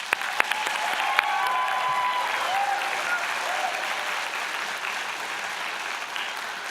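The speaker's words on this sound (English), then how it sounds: "One more round of applause." A graduation audience at a fall convocation applauds, producing a dense, steady wash of clapping that holds at the same level throughout, with a few brief voices and whistles rising over it.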